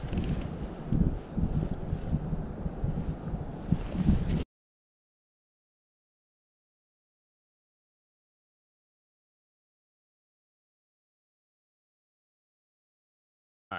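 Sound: wind blowing outdoors while trout fishing

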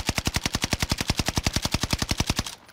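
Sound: gunfire from the video game Warzone

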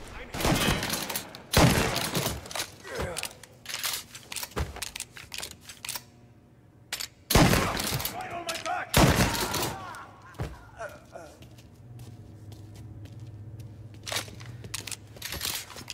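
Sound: gunfire from henchmen in Mafia video game

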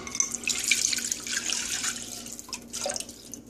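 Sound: pouring chicken broth into a pot

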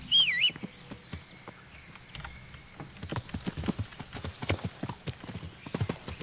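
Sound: horse hooves in a video game

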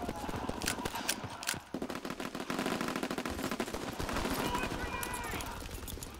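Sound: M1 Garand rifle gunfire in the video game Call of Duty WWII

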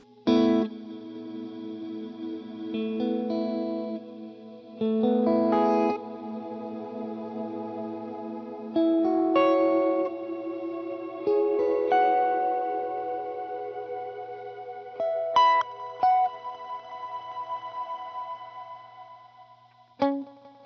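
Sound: guitar reverb from HX Stomp with dwell turned down, smear-like

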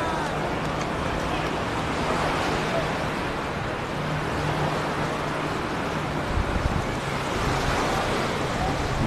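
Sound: windy sandy beach with waves at Gündoğdu

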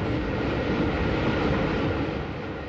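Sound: vintage Southern Railway steam train crossing the Ouse Valley Viaduct

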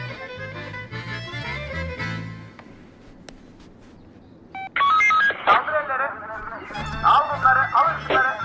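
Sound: phone ringtone

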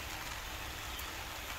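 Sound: gentle rain falling

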